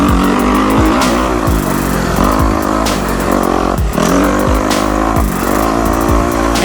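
A motorcycle rides a dirt raceway at Southern Training Facility & Raceway in Georgia, its loud engine revving up and dropping back again and again through shifts and throttle blips, close and continuous.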